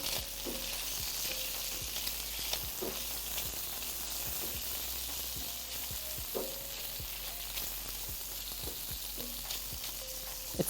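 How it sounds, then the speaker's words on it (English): A pot sizzles steadily in a smoky kitchen while smoked turkey stock and bacon cook, with a spoon stirring and knocking against the pot at irregular intervals. "We gotta give this a stir."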